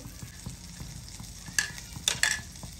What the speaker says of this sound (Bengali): তো এই বাটারটা আমি এভাবে গলিয়ে নিচ্ছি।